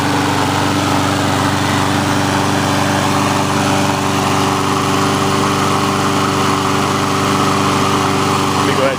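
A warm Briggs & Stratton small engine with an auto choke runs at a steady idle, a constant close mechanical drone with no breaks.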